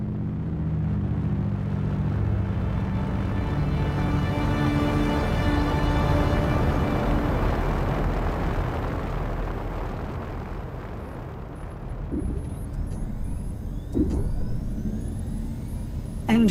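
Spaceship engines in an Unreal Engine film drop out of fold space with a loud, sustained rumbling roar that gradually thins and settles, ending with a few sharp mechanical clunks.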